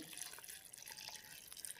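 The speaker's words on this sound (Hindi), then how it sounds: "थोड़ा सा मैं पानी डाल दूंगा" Water poured into a clay pot holding onion, ginger, garlic and green chillies for beef tongue curry, a faint brief trickle and splash heard close by with no talking.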